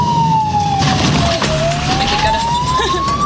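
A wailing ambulance siren sweeps down and back up, loud and close, with a brief spoken word over it.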